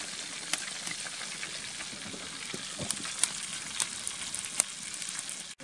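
Fish frying over an open fire at a country homestead, giving a steady, close sizzle with scattered sharp crackles and pops throughout, and no voices.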